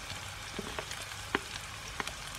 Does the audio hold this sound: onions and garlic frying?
yes